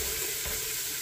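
Garlic frying in a pan, a brief steady sizzle, moderately loud and continuous with no break.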